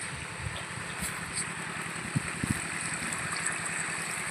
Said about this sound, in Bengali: এই দেখুন পাইপ দিয়ে জল যাচ্ছে ওই যে পাইপের সামনে মুখ ওখান দিয়ে জল বার হচ্ছে